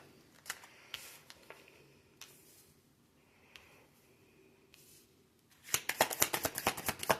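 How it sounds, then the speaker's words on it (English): Tarot cards are shuffled near the microphone; a few faint isolated taps give way to a rapid burst of crisp riffling clicks near the end. "Okay, we're going to do a pop-up shuffle."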